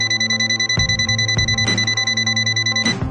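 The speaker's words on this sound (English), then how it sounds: "Firewire recognition, it will emit a quick beep." A shrill beep from an ANENG Q10 digital multimeter detecting a live wire rings nearly continuously, broken by a few soft clicks and taps close by.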